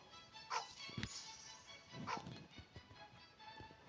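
Two short dog barks in Roblox game Grow a Garden audio, about a second apart, over a busy low background of music and effects.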